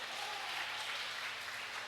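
Church congregation clapping together: a steady, dense hiss of many hands, moderately distant and even in level, with a low organ-like hum beneath.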